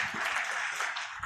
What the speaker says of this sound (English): Can we also give him another round of applause?